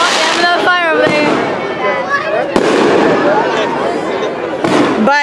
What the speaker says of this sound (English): And every time I speak, fireworks goes off.